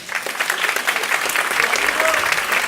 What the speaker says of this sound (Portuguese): as palmas louvam o Senhor